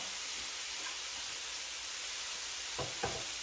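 Bean sprouts sizzling in a hot pan while being stirred, a steady loud hiss with a couple of soft scraping knocks near the end.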